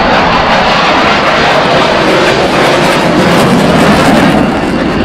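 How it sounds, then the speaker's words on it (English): A Polish Air Force MiG-29 jet flying a minimum radius turn gives off a loud, unbroken engine roar that stays strong and steady the whole time. "Now performing a minimum radius turn, so keeping the turn circle as tight as possible"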